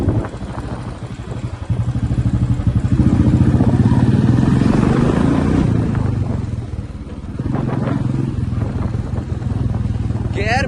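A 500cc motorcycle rumbles at steady cruising speed, a loud continuous engine drone with wind noise that dips briefly then picks up again, while a rider talks over it.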